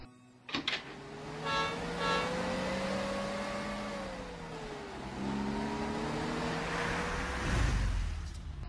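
A long car pulls up with a steady engine drone that rises and shifts pitch as it arrives and settles, fairly close, with no talk over it.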